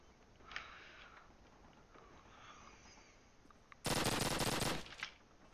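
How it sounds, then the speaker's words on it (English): A PPSh submachine gun firing in a video game: one short, loud, rapid burst near the end, standing out sharply after a quiet stretch of faint background game noise. "Spirit only fire some PPSH shots"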